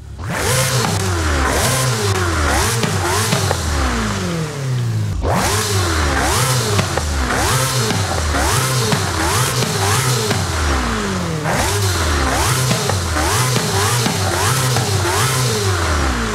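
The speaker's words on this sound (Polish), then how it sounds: "O, z tunigiem wydechu lepiej." A Ferrari with a tuned exhaust revs hard in a racing video game, its loud engine climbing through repeated rising sweeps with gear changes, one brief break near the middle, and no talk over it.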